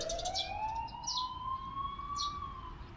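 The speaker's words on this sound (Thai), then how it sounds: "รถพยาบาลขับออกไป" An ambulance siren in a horror video game wails in one long rising and falling tone over a low engine rumble, fairly faint and steady, with no talk over it.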